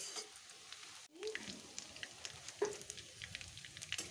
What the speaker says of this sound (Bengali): পেঁয়াজ কুচিটা বাদামি করে ভেজে নিতে হবে।